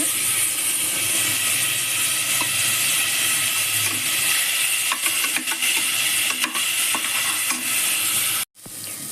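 Chopped tomato fries and gets stirred in a hot pan for pav bhaji, a loud continuous sizzle broken by scraping spoon strokes near the end, close by with no talking.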